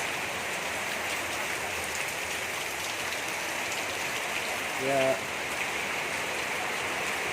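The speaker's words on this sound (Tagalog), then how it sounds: "nakakabingi na yung ulan na tumatama sa bubong" Steady rain pours down on a roof in a dense, even hiss, heard from a second-floor terrace, with a brief spoken word cutting through near the end.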